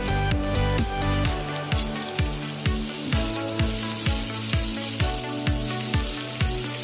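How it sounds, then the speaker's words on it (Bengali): Onion frying in a pan with a spoonful of sugar, a loud, dense, steady sizzle with regular rhythmic scraping strokes of a spatula against the pan. "পেঁয়াজটা এবার ভালো করে একটু ভেজে নেব।"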